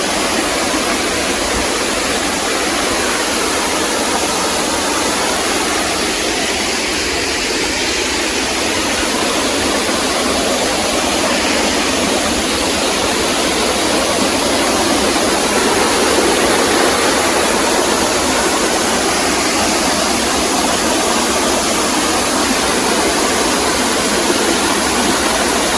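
Nalagana waterfall running low, with only a little water falling, gives a steady, close, full-bodied rushing wash that holds evenly throughout with no voices.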